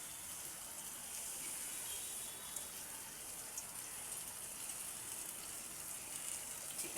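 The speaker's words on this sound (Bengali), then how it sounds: "তো আর একটু সামান্য আমি জল দিয়ে দিচ্ছি" A little water poured into a pan of cooking okra dish in a home kitchen, a steady, soft gushing wash that runs evenly for several seconds at low level with no voices.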